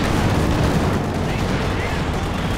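Dense, continuous gunfire and artillery rumble from a 2v2 Company of Heroes 2 battle between Soviet and US forces and German Oberkommando West, loud and steady with overlapping shots throughout.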